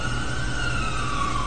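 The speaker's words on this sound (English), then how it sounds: "Ambulance!" A wailing ambulance siren in a SpongeBob cartoon scene, a steady sustained electronic tone held loud and close for a brief moment with no voices.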